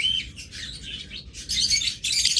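Caged birds for sale, a one-year-old pair of opaline birds, chirp and twitter in quick bright bursts, close and steady over faint background hum, with no talking.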